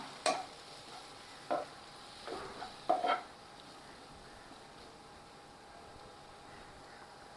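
Ground cumin and coriander powder get stirred into a pan for mutton dalcha: a few distinct scraping strokes of a spoon over a soft, steady background hiss.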